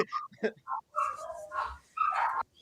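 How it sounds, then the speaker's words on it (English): Several dogs barking and yipping in short, uneven bursts close by, mixed in with people talking. "my dogs are going crazy"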